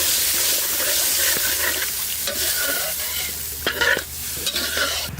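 Water poured into a pan of cooked-down spice paste with turmeric and salt, a loud bubbling sizzle and gushing splash close by, with scraping stirs and a burst of agitation toward the end, no talking.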